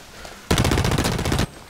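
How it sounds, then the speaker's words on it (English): Rapid SMG burst in the shooter game Blacklight, a single loud sustained volley of about a second with tightly spaced shots, standing alone with no talk over it. "this SMG is really deadly at close range"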